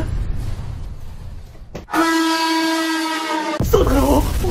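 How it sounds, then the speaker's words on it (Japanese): A train pulls into a station platform, sounding a loud, steady horn tone for almost two seconds. Rumbling noise and a faint voice come before and after the horn. "やばい、電車来る。"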